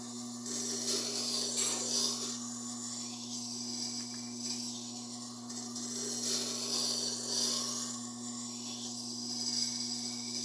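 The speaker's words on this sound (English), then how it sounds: "that's how you know you're grinding the tip" A blade being sharpened on a Tormek T8 grinder, a faint steady rasping hiss of steel on the turning wheel over a constant motor hum, slowly swelling and easing as pressure and position change.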